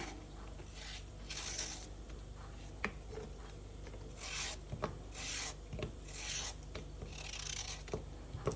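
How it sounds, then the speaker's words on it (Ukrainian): Frozen dough rubbed across a grater onto a baking tray, a series of close rasping strokes in an uneven rhythm, each scrape a short gritty burst with small knocks between, quiet and without talk. "Виймаю одну частину е, тіста з морозиловки і натираємо на на таку бляшку."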